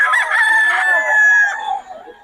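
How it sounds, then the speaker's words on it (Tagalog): A rooster crows loudly and close at a poultry market in Bocaue, one drawn-out call lasting about two seconds, with chicken clucks trailing after it. "Maganda ng mga manok boss agad."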